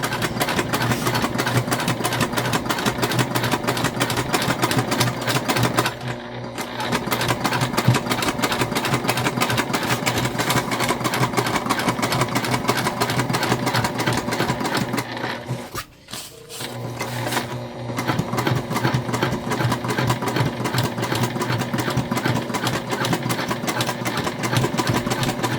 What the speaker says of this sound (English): I am going to top stitch. It's just because we use something so thick.